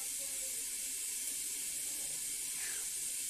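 A pot of water heats on a home kitchen stove beside a cauliflower curry, making a steady, faint hiss with no voices.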